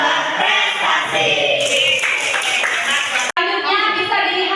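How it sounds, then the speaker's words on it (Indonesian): Students in a classroom at SMP Negeri 2 Cimarga chant together while clapping in a patterned rhythm, voices and hand claps loud and close throughout. "Satu kali lagi kita tepuk SMP Negeri 2 Cimarga"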